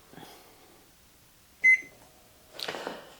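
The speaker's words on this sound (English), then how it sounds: "Timer went off." Oven timer goes off in a home kitchen while pumpkins bake for puree: one sharp, loud electronic beep near the middle, set against quiet kitchen noise, with rustling before and after.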